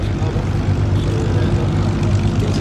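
A clipped-wing Spitfire Mark 16 propeller fighter flies at the Duxford Battle of Britain airshow, its engine a loud, steady, deep droning roar that holds throughout.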